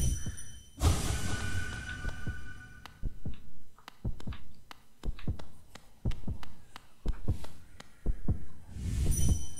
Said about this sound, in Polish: Bicie serca.